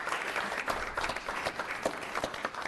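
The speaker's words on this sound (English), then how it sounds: "So I still say we give them a round of applause." Applause from an audience at a city Parks and Recreation Commission meeting, a steady patter of many hands clapping in a room, moderately loud and continuous throughout with no talk over it.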